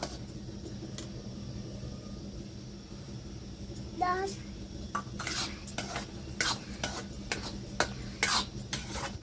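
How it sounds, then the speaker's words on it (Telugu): Karachi halwa mixture stirred in a pan over a low flame, with a spoon scraping and clinking against the metal in irregular strokes, close and moderately loud, while a voice talks intermittently. "చూడండి, ఇలా మట్టి కలుపుకోవాలి సన్నమంట మీద"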